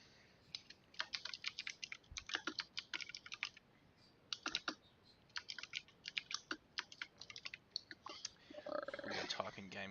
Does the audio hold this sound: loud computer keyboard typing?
yes